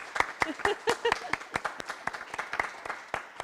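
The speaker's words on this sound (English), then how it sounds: "Can we clap?" A few people at a school committee meeting clap, sparse distinct claps in an uneven rhythm, with a voice talking briefly over the first second.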